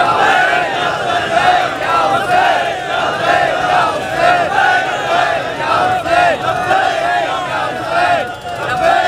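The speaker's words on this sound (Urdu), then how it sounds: "یہ نعرے ادھورے نعرے ہیں، پورا مجمع نہیں پکار رہا۔" Large crowd at a Shia majlis marking the martyrdom of Imam Ali on 21 Ramzan chants slogans in unison, a dense, steady roar of many voices rising and falling in rhythmic waves.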